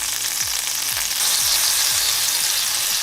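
Frozen cubes of oil sizzle and fry in a hot skillet, a loud, steady close hiss with crackling pops throughout.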